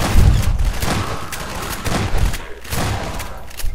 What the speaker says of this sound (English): they shot the prisoners